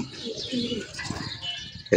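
Pigeons coo in low, throaty bursts outdoors on an early morning, with faint chirps nearby and people talking over them, ending in a sudden loud clatter.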